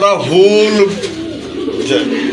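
Deep, repeated crested pigeon cooing rises and falls close by, with a voice talking over part of it.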